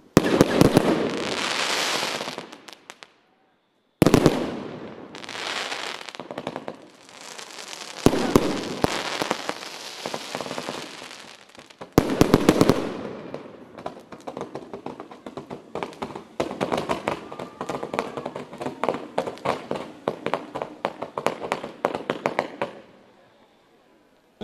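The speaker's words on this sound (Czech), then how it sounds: "Jedním z vrcholů sousedského setkání je také ohňostroj, na který se těší všichni přítomní." Fireworks at a neighbourhood gathering in Dolní Bojanovice, with loud bursts and crackling volleys in several waves, brief pauses between them, then a long stretch of dense rapid popping that fades out near the end.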